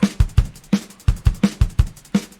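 A punchy drum loop with deep kick thumps alternating with sharp snare hits in a steady, even rhythm, loud and alone.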